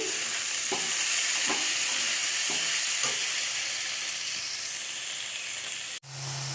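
Turmeric and cumin powder being stirred in a frying pan, a continuous loud sizzle with several soft spatula scrapes, then a brief sharp clatter near the end.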